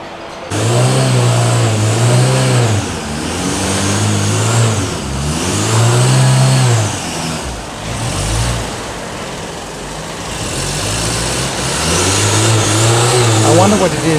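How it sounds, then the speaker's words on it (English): Car engine revving repeatedly on a steep Istanbul street, loud rising and falling bursts of acceleration in a clear rhythm, close by, with a lull midway before the revving resumes. "the car that's going uphill put in his reverse and went back downhill"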